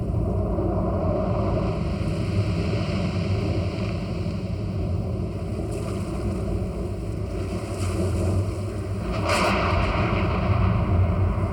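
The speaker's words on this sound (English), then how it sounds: "While some volcanoes grow slowly, others explode ferociously up from the depths." A deep-sea volcano erupting up from the depths brings a continuous heavy roar and low rumble, with surging wave-like wash and a sharper burst near the end, no speech.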